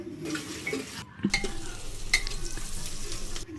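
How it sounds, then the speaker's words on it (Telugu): Green chillies and onions frying in oil inside a pressure cooker, with turmeric added, give a steady close sizzle broken by spoon scrapes and metallic clinks against the pot, with no talking. "కుక్కర్లో అయితే ఆయిల్ వేసుకొని దాంట్లో పచ్చిమిర్చి ఆనియన్స్ వేసుకొని కలుపుకోవాలి"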